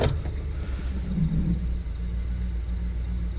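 A Ford F-150 pickup engine runs steadily after its misfire was repaired, a close, even low rumble with a brief rise in revs near the start and no voices.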